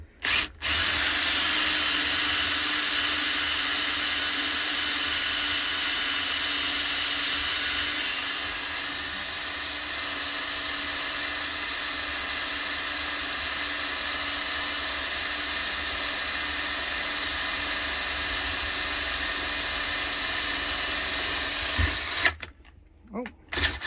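A power drill bores out rivets on a Honda Civic EK/EJ seat bracket fitted with EP3 Type R seats, a loud, continuous high-pitched whine running about twenty seconds, close up, before stopping with a few clicks.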